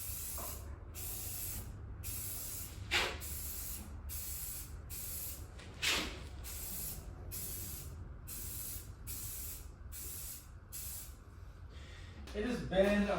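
An aerosol can sprays clear coat in steady, long hissing bursts with brief pauses between them, close by, continuing for several seconds.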